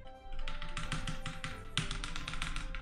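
Rapid computer keyboard typing and clicking while playing the online game Final Fantasy XIV, a dense, close burst of key taps with a brief pause partway through, steady and fairly loud.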